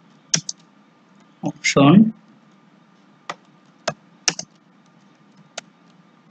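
Computer keyboard typing, a few sparse, crisp key clicks spaced out over several seconds, with a short spoken word among them.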